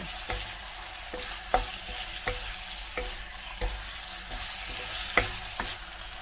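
Tofu stir-fries for a low-calorie mapo tofu rice bowl with a steady close sizzle. Regular spatula taps and scrapes on the pan come roughly every half second, and no one speaks.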